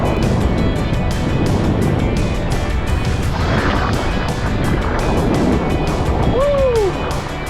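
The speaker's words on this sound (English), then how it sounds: "This is the wind I was waiting for." Strong wind, flowing around 25 and gusting higher, roars over open water near a small sailing craft, a loud, steady buffeting rush with splashing and no talking.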